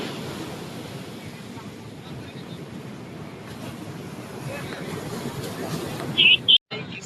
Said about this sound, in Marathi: लाटा यायला लागल्यात समुद्राच्या.